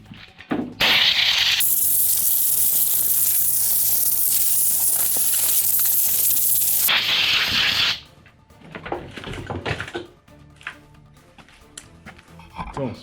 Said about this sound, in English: So spray it black.